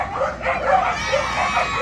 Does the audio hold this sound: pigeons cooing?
no